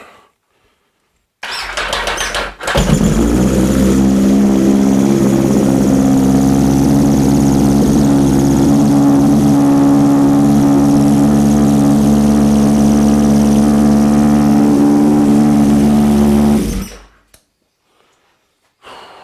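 A Yamaha XS1100 fitted with a big bore kit and performance head cranks briefly, fires up on choke and runs at a steady, loud, close idle for about fourteen seconds before shutting off, with no voices.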